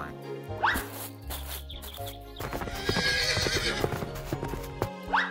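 Horse on a farm neighing twice, with clip-clopping hooves in a steady patter between the whinnies, close and fairly quiet, with no talking.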